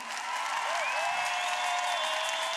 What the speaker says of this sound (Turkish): Alkışlar daha yüksek gelebilir mi?